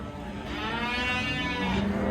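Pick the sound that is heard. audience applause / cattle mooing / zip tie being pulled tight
cattle mooing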